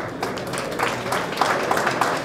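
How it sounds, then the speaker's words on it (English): An audience claps in a steady dense patter for a couple of seconds, a crowd-wide applause heard at moderate distance. "Round of applause for Ayr MUIR."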